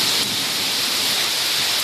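Heavy rain pours steadily during a thunderstorm with lightning nearby, a dense, loud, even hiss of drops hitting surfaces, continuous and close with no voices.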